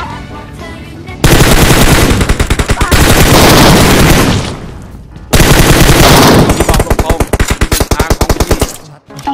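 Sustained automatic gunfire in PUBG Mobile, two long loud bursts of rapid shots separated by a short pause, close and dominant, with faint voices underneath.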